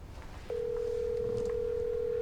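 A telephone call back is being placed: after a brief quiet moment, a continuous single-pitch ringback tone starts and holds steadily, moderately loud and uninterrupted.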